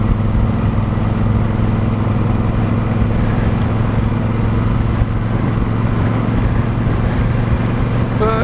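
A motorcycle engine drones steadily as the bike rides over a bumpy road, a close, constant low rumble without pause.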